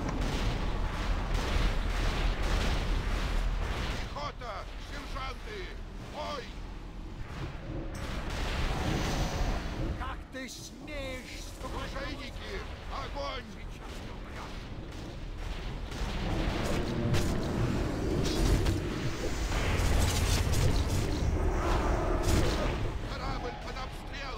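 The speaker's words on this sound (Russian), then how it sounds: "Пусть заткнет эти пушки!" Repeated cannon-like booms and gunfire from a World of Warcraft Icecrown Citadel 25-player raid battle, loud and continuous, with people talking over the din throughout.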